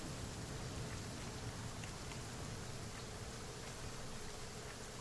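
Steady rain from The Flame in the Flood, a dense hiss of drops spread across the whole clip at an even, moderate level with no voices.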